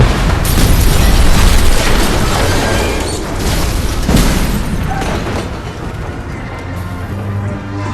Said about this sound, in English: The car is parked by the authorities, and we are just waiting for it all to blow up.